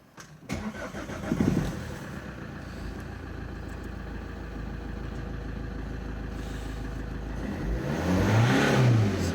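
A 1.9 CDTI diesel engine in an Opel Zafira B cranks briefly and starts, then settles into a steady close idle with a rise in revs near the end.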